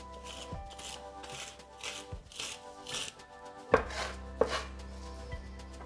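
Rapid knife chopping of herbs with salt on a cutting board for salsa verde, a rhythmic series of close scraping taps with a couple of louder knocks near the end.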